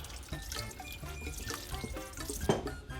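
Liquid ingredients for ramen are poured into a slow cooker, giving a soft, continuous splashing and trickling that sits close and fairly quiet, with a brief louder splash near the end.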